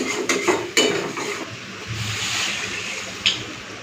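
Water poured into a pot of spiced potatoes being cooked, a soft continuous splashing and gurgle with a few sharp clinks of a spoon or pot near the start and another near the end.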